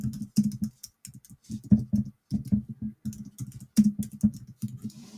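Rapid typing on a computer keyboard while a poll is written, close and clear, with irregular bursts of keystrokes broken by short pauses and no talking.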